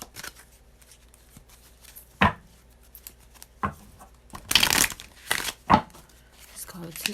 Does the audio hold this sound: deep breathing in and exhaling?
no